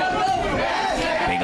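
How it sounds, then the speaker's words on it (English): Arena crowd at an MMA bout in the octagon, a steady loud roar and baying filling the space, with commentary voices talking over it throughout. "The crowd are baying for a firefight in the centre of the octagon."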